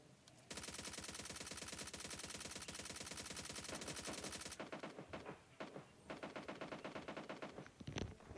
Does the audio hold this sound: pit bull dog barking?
no